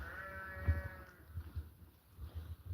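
A single faint sheep bleat rises briefly over low rumbling background noise, followed by scattered muffled thuds in a sheep barn holding rams.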